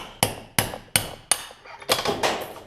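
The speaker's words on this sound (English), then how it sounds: "you're able to take a hammer and your punch" Four evenly spaced sharp metallic hammer blows on a punch, driving out a Yamaha Blaster wheel bearing, ring out close and loud, followed by a few quicker, softer taps.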